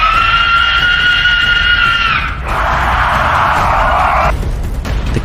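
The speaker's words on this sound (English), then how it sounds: "The cave erupts in blinding light as the creature lets out one final ear-piercing scream." A creature lets out a long, loud, shrill scream in a cave that wavers and then drops into a harsher, noisy screech before cutting off abruptly, close and alone.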